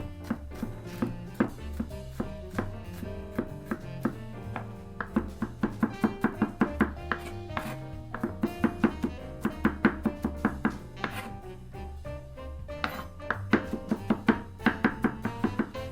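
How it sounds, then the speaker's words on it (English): A knife finely minces garlic on a cutting board, a long run of quick, regular chopping taps with occasional brief pauses, close and clear over faint background music. "now that this garlic is finely minced"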